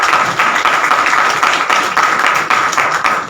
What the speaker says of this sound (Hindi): एक बार इन्हां सारिਆਂ वास्ते जोरदार तालियां